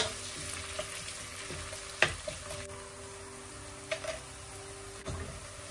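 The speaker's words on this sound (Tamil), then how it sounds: "அந்த மாதிரி நல்லா ஃப்ரை பண்ணி எடுத்துக்கோங்க" Onions frying with whole pepper in a pan for Hyderabadi bagara rice: a steady, low sizzle runs throughout, broken by a few sharp clicks and taps of a spoon against the pan.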